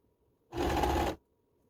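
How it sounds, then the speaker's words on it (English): A sewing machine stitches stretchy t-shirt material in one short, steady burst of whirring, close and fairly loud, starting and stopping abruptly with quiet on either side. "while you're sewing, pulling material out this way"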